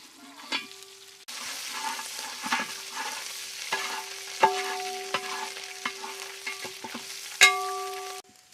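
Ginger dropped into hot oil with fried garlic in a pan, spattering and sizzling steadily while a utensil stirs with sharp scraping clicks throughout, close and fairly quiet.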